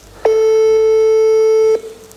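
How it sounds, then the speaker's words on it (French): A single long, steady telephone ringback tone sounds during an outgoing call, lasting about a second and a half and then stopping, with faint background hiss around it. "Une sonnerie, 2 sonneries."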